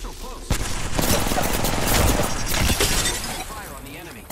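A squad opening fire on an enemy in a video game: dense, rapid automatic gunfire and sharp shots overlapping in a loud, sustained fusillade with shattering impacts, trailing off toward the end, with voices talking over it.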